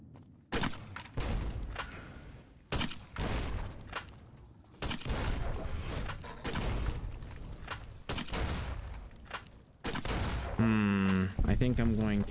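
The Thump-Thump grenade launcher in Fallout: New Vegas firing at Deathclaws, a series of heavy thumping shots and bursts roughly every second or two, loud and close, with a creature growl rising near the end.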